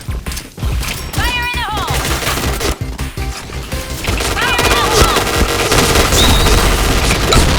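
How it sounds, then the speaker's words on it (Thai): Rapid bursts of automatic gunfire from the game Point Blank crackle nonstop, punctuated by louder booms and bright whistling effects, all dense and close. "ทำไมยิงกันขนาดนั้นวะ"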